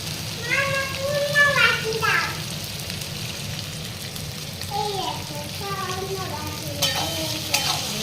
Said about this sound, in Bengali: পেঁয়াজটাকে ভালো করে ফ্রাই করে নেব।